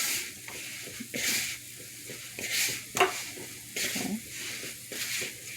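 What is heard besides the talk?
mixing flour by hand in a bowl for dumplings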